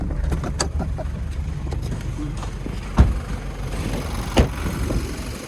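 A 1995 Toyota Hilux Surf idles steadily at close range, giving a continuous low engine hum. Two brief knocks or clunks are heard over it, with no talking.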